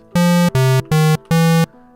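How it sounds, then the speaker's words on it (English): A synthesizer square-wave tone sounds in four sustained, buzzy notes of equal length with short gaps between them, loud and clean with no other sound. "We've got a square wave."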